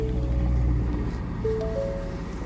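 A 2020 Ford F-350 engine idles steadily, a low continuous rumble with a faint whine rising briefly partway through, heard up close with no talk.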